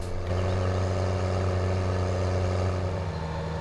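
A tractor towing a large trailer of chaff in Farming Simulator 17 gives off a steady, loud, low engine drone with a constant hum that stays even from start to finish, with no voices.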